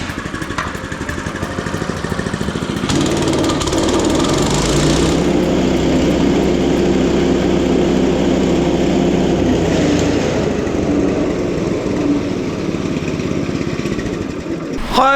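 A loud engine runs steadily close by with a rough droning roar that holds its level for the whole stretch, and no voices are clearly heard.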